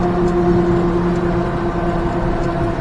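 Small blue Suzuki mini truck driving over a potholed parking lot on a snowy day, giving a steady, loud engine drone and road rumble heard from inside the cab, with no talking.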